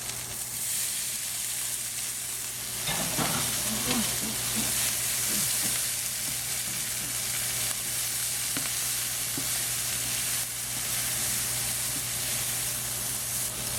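Beef and green beans stir frying with garlic in a hot pan, a steady loud sizzle and hiss with clattering stirring scrapes early on, no voices.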